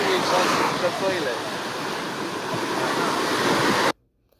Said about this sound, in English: I think it's because of all the water in the background